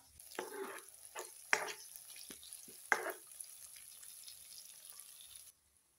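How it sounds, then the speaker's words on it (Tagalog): Meat for kare-kare sautéing in a pan gives a faint hiss with scattered scraping and clacking stirs, a few sharp knocks standing out before it stops. "ilalagay natin itong karne niya, then igigisa natin dito"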